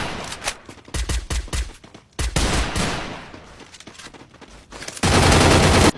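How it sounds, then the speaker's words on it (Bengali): Pistol gunfire heard as loud, close rapid shots fired in several bursts separated by brief pauses, ending in a dense sustained volley, with no talking. "চালা গুলি, চালাও।"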